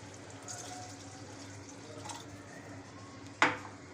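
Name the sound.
water poured into kofta curry gravy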